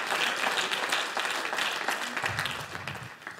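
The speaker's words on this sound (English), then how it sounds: "we should clap our hands and thank God for that" A church congregation bursts into enthusiastic applause that fills the room, then thins out and fades toward the end.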